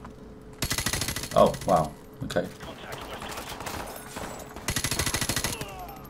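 Automatic gunfire rattles in Call of Duty: Modern Warfare Remastered, two long bursts of rapid shots and scattered distant firing between them, with a player's voice speaking briefly over the battle.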